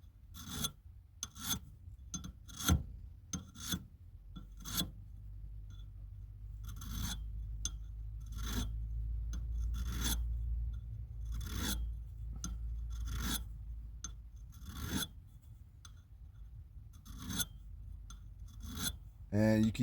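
Rasping strokes score the plastic surface of a Panzer EG200 shotgun magazine extension, a steady series of short, dry scrapes repeating close by, with no talk over them.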